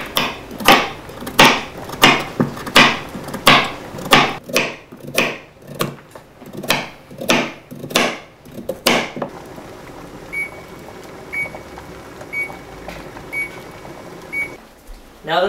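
A kitchen knife chopping peeled carrots on a board, a fast run of sharp, close taps for about nine seconds, then quieter kitchen background with faint beeps.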